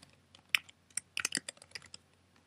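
Quick, close computer keyboard typing while entering a folder name, a short irregular burst of crisp key clicks that thins out toward the end, quiet and alone.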